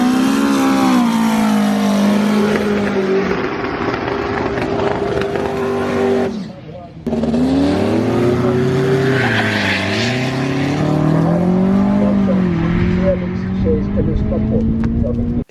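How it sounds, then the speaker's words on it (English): A turbocharged, nitrous-fed drag race car launches off the trans brake and bogs, its loud engine drone cutting out briefly, then surging and wavering in pitch as it pulls away, with talk over it. "It just let go of the nitrous a little bit before he let go of the trans brake, so it's bogged down and got a not so good time."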